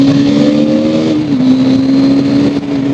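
A stock-exhaust engine on a new 2022 KTM motorcycle revs steadily with a strong, even tone that dips slightly in pitch partway through, loud and close with no talking.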